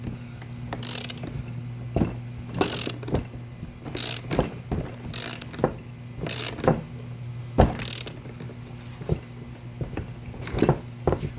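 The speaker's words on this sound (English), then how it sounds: "so I'd extend my ratchet out here. It's getting pretty tough." Ratchet wrench turning a tight bolt during a 2.0 L engine and transmission replacement on a Suzuki Forenza, repeated rhythmic clicking strokes roughly every second, close and clear, with no speech.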